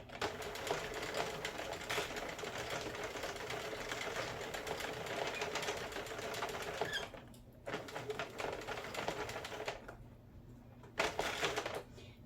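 A Sentro knitting loom knits rows of yarn with a continuous, fast mechanical clicking and rattling, steady and close, pausing briefly twice before resuming.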